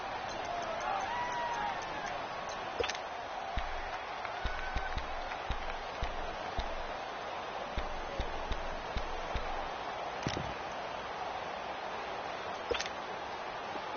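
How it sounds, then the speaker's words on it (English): A large football stadium crowd at a Buccaneers versus Cowboys game cheers and rumbles steadily ahead of a big third down, a dense distant roar with scattered claps and shouts throughout. "the crowd getting into it as we come up on a big 3rd down"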